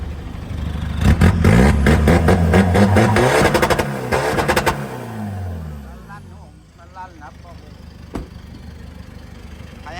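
A used high-riding Isuzu car engine idles and revs in loud bursts up close for several seconds, then drops back to a quieter idle, with someone talking over the engine.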